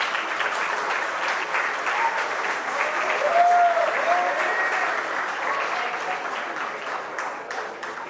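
An audience at a university day awards ceremony claps for the awardees, a dense, even roar of applause sustained for several seconds before tapering slightly.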